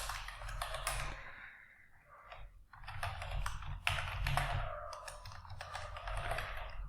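Computer keyboard typing while building a Playwright UI test, a quick run of close, crisp key clicks in bursts with short pauses between, no talking.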